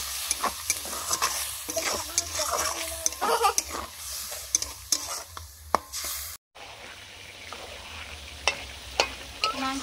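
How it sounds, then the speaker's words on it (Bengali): Meat sautés in a pan with chili powder and a splash of water, with a loud, continuous sizzle and repeated scraping stirs close at hand, a brief dropout midway, then sizzling and stirring resume. "মাংস কষানো হয়ে গেছে"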